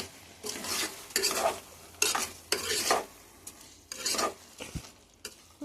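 Intermittent scraping strokes of a spoon stirring cauliflower rice in a pot, several bursts with short pauses, close and moderately loud with a faint background hum.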